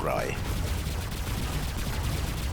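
Rapid gunfire from a combat robot in the mech shooter War Robots, a dense continuous volley of shots throughout, with a voice speaking briefly at the start.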